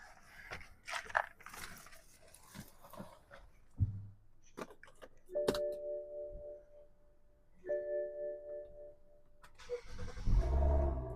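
A 2011 BMW X5 35i Individual starts with a brief crank, then settles into a quiet idle that swells a couple of times, after a few clicks and taps inside the cabin.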